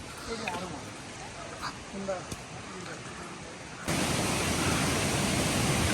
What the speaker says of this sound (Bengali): দেখেন ওই যে আমাদের পিছনে কত সুন্দর একটি ঝর্ণা দেখেন পানি পড়তেছে